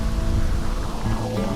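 Heavy monsoon rain pours steadily on Harishchandragad fort amid drifting fog, a loud, continuous broadband wash with no gaps and no voices.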